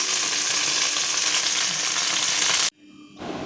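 Soybean fry sizzling loudly and steadily in a pan, with stirring and turning throughout. The sound breaks off abruptly near the end, then a quieter sizzle returns.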